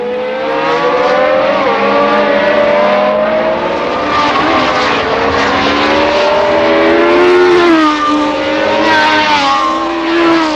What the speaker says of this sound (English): 5 laps from the finish, Lafitte was second, having overtaken Stuck, Reutemann, Mass, De Pier and James Hunt